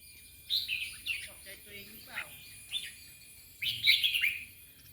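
A red-whiskered bulbul sings nearby in short, bright bursts of chirping, whistled notes separated by pauses, the loudest phrase coming near the end against a quiet background.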